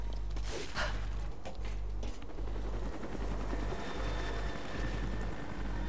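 A helicopter in Rise of the Tomb Raider, its rotor thumping in a steady rhythm over a loud engine drone that holds for the whole stretch, with no voices.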